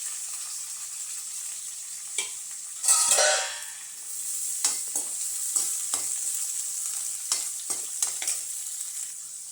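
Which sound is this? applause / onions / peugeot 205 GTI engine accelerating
onions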